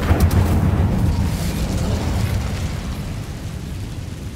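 A fiery Incendio spell from a Harry Potter video game erupts in a loud, sustained roaring blast that fades slowly over a few seconds, without talk.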